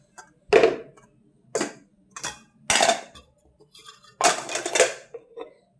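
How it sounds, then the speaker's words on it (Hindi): Washed dishes and steel utensils are picked up and stacked in a home kitchen, five sharp separate clinks and clatters spaced out with quiet gaps between them. "और यहाँ से बर्तन भी उठा लेती हूँ"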